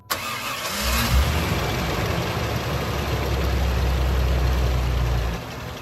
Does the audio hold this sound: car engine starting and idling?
yes